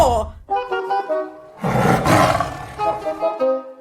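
A big striped tiger's roar, played as a sound effect in a comedy sketch, comes as a loud, drawn-out growling roar in short bursts that swell to a peak and then trail off.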